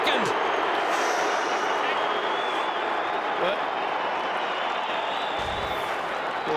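A stadium crowd at an Australian rules football match between Hawthorn and Adelaide roars in a broad, sustained wash of noise after a goal, with a commentator talking over it.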